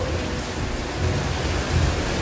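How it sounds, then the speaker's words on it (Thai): Steady rain falls throughout, a dense even hiss with faint low rumbles beneath, at constant moderate loudness and with no voices. "ฝนตก"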